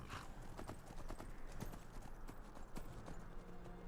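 Horse hooves clip-clop at a steady trotting rhythm on the road to Markarth in Skyrim, quiet and continuous under faint game ambience.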